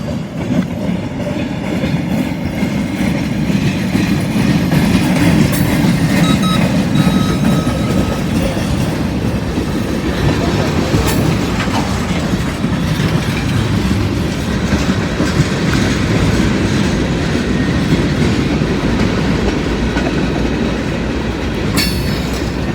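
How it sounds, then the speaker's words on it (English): A local freight train with a caboose, led by a GP38-2 locomotive, rolls past close by in a continuous loud rumble with clattering wheels and occasional squeals. "First train I get's the local coming back with the caboose"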